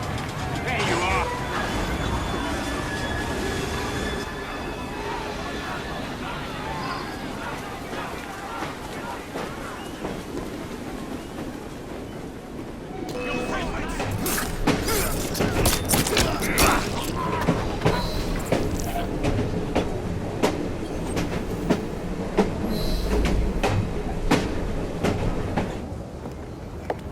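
A train running in the video game Assassin's Creed Syndicate, a steady rumbling with clattering wheel noise that grows louder and busier about halfway through, with a voice faintly present at times.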